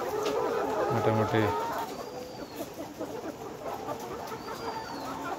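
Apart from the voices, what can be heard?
layer hens clucking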